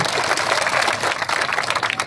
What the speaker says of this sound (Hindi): इस भाईचारे के लिए एक बार जोरदार तालियां बजाइए सभी